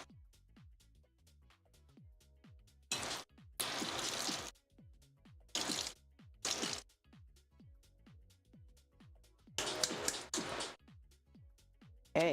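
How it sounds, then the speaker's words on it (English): Water is dumped from a pot of noodles into a kitchen sink, several short separate splashing gushes broken by near silence, fairly faint overall. "dumping some water. Woo! And half my noodles into the sink."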